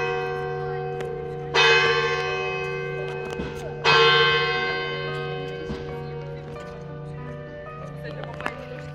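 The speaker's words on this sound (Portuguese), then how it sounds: "Ouvem-se os sinos aqui, tem um sino parecendo ser de uma igreja." Church bells ringing in Coimbra, two strong ringing strikes with long resonant decays sounding out over the street, amid quieter background murmur and occasional voices.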